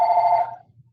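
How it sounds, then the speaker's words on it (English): A house telephone rings once, close and fairly loud, with a bright electronic tone that cuts off after about half a second, leaving only faint room noise. "No one will answer the phone in the house but me, just so you know. It'll just ring."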